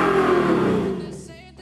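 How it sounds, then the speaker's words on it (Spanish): Simulated V6 or V8 engine note produced by a Soundbuster sound-generating exhaust kit on a car, a close, loud steady drone that fades over under two seconds. "un kit de escape que imita a la perfección el funcionamiento de un motor de gran cilindrada V6 o V8"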